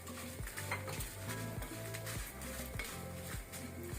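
Spices, urad dal and dry Byadgi red chillies are stirred while roasting in a pan, with a rhythmic scraping of the spatula against metal repeating about every half second over a soft sizzle.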